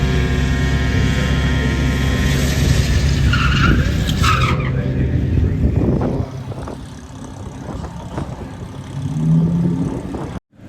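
A VW drag race car runs down the strip at Santa Pod during a national qualifying event, with a loud, harsh engine roar that drops off sharply partway through, leaving a fading, distant drone.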